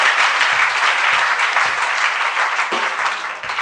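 A church congregation at a night vigil claps and cheers continuously in a dense, steady wave of applause, with a few louder individual claps standing out, and no speech over it.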